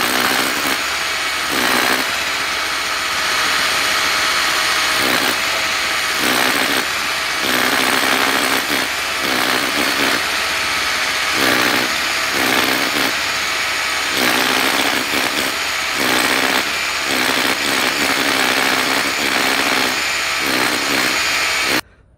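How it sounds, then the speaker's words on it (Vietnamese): A cheap cordless brushless rotary hammer drill with a 12 mm bit bores into concrete, its loud rattling hammer action running in repeated bursts of a few seconds, separated by brief pauses, over about twenty seconds. "nó vẫn khoan vào bê tông rất là tốt các bạn ạ"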